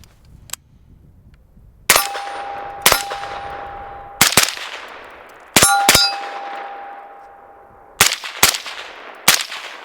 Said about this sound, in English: we're going to shoot it anyway